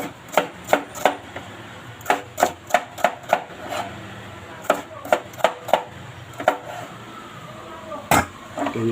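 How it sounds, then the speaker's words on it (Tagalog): Knife chopping ingredients for ampalaya con atay (bitter melon with liver) on a board, quick irregular clusters of close, sharp cuts with short pauses between, under quiet room noise. "Ganyan po ang hiwa."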